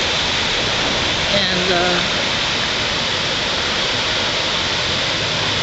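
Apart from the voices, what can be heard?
water rushing at damaged Dudley Tonkin Dam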